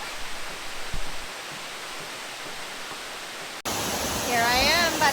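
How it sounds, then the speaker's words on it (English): Issaqueena Falls in Sumter National Forest roars as a steady broadband rush of falling water, which jumps abruptly louder and brighter partway through, with thin chirping tones over the torrent near the end. "Here I am by the falls."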